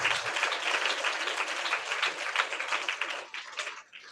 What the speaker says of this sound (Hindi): जोरदार ताली बजाकर महिमा करें प्रभु